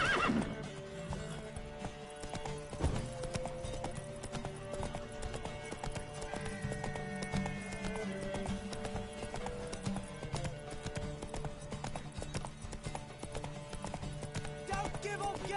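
Horse hooves clip-clop at a gallop while the horse neighs, in The Witcher 3: Wild Hunt, with game effects and voices in the background.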